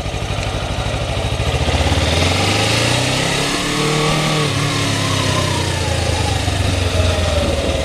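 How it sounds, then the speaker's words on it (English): A motorcycle engine runs close and loud as the clutch engages and the bike pulls away without added throttle, a steady throbbing note shifting in pitch while moving, with no talking. "the clutch is fully engaged and we're moving, and I didn't even add any throttle"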